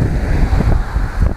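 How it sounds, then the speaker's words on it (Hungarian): Strong gusty seaside wind buffeting the microphone in heavy low rumbling bursts, loud and close, with a rushing surf-like hiss behind. "Piszakul fúj a szél, és össze-vissza fúj"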